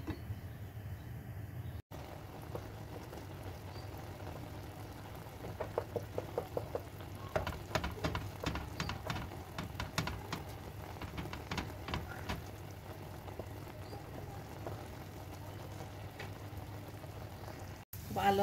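Pan kebab fries in oil over a high flame, giving a steady low sizzle with bursts of crackling pops in the middle stretch, and a voice speaks at times.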